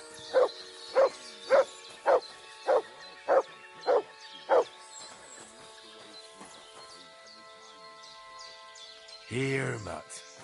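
Dog named Mutt in the video game Kingdom Come: Deliverance 2 barking eight times in a steady run of sharp, close yaps, followed by quiet background sound and a short low rumble near the end.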